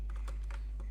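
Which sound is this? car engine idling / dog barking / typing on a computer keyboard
typing on a computer keyboard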